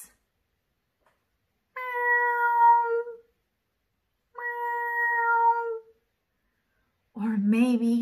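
A person's voice imitates a cat meowing during a children's picture book read-aloud, two drawn-out falling meows separated by silence, then a shorter third meow, close and clear.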